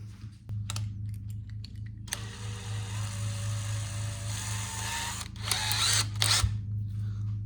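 A power drill whirs in several bursts, starting and stopping, over a low steady electrical hum; a few small clicks and clatters between runs, starting with a small bit on a Haslab 1984 Spengler Neutrona Wand prop replica.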